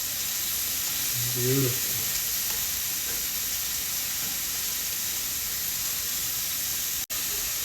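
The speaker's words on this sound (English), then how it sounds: "Go ahead and flip them. You get a nice caramelized steak like that." Steak searing in a hot pan with garlic and ginger gives a steady, loud frying sizzle and hiss throughout, with a brief voice speaking early on.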